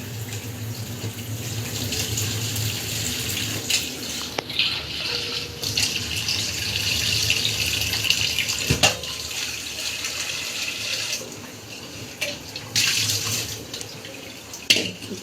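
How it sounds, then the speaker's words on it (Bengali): Boiled taro leaves poured out so the water drains off, a steady, close rush of pouring water running for the whole stretch with a few brief splashes and knocks, and no talking. "জল ঝরানোর জন্য ঢেলে দিচ্ছি।"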